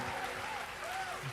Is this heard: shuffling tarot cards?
no